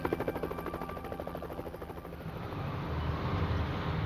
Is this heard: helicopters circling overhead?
yes